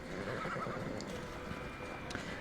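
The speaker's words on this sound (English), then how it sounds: "Let's return the horse." Horse neighing in Assassin's Creed Valhalla, a whinny rising over steady clip-clop hoofbeats and continuous game ambience, with faint voices in the background.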